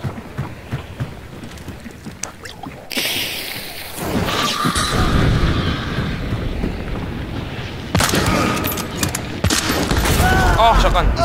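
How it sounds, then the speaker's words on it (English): Shotgun fire in a multiplayer shooter game, heavy blasts and bursts amid loud chaotic gunfire and whooshing effects, with a player's voice talking over the action. "Oh, shotgun!"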